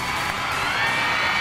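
Studio audience applause and cheering on a Thai TV dating game show, a steady, dense wash of clapping and shouts held at even loudness for the whole span.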